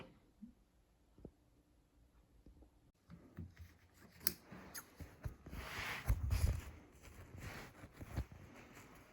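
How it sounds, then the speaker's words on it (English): Several short snips of blunt scissors cutting through fabric, close by, with soft rustling and handling noises between the cuts. "is cutting these out with blunt scissors"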